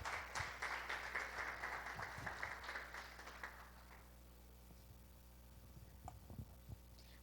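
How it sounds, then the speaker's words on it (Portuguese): A church congregation applauds a dance performance during an evening missions service, steady clapping for about four seconds before fading into low hum and a few scattered claps. "Vamos receber a coreografia aplaudindo ao Senhor?"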